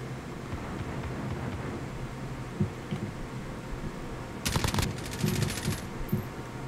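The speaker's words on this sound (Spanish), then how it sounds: "son disparos" Video game gunfire crackles in short automatic bursts near the end over a low background hum, fairly faint and without speech.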